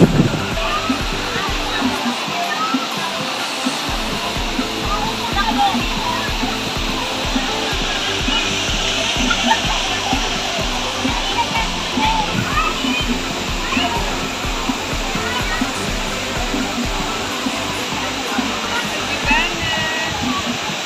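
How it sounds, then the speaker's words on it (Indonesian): Steady roar of a waterfall pouring into a pool, loud and continuous, with a faint voice briefly in the mix. "di air terjun kolam."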